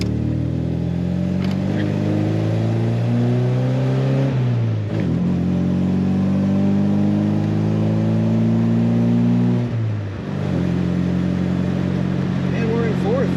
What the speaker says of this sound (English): This car has a nice little rumble to it.